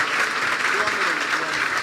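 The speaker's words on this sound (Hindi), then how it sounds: "यीशु के जलाल के लिए जोरदार तालियां बजाएं" Church congregation applauding for Jesus during a sermon, a dense, continuous wash of clapping under voices.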